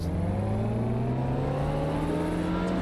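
A stolen car's engine revs hard in Watch Dogs: Legion, a loud steady climbing whine of rising engine pitch filling the moment without speech.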